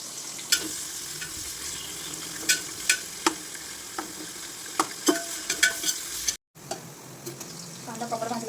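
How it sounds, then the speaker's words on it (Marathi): Whole spices fry in hot oil as the tempering for chicken pulao, with a steady sizzle, close sharp pops and crackles, and a brief cut before the frying resumes. "खड्या मसाल्यांची फोडणी देऊन"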